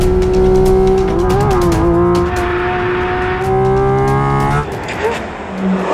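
Porsche 718 Cayman GT4 RS engine roaring loudly while driving, a strong sustained tone with pitch rising and falling through gear changes before easing off near the end.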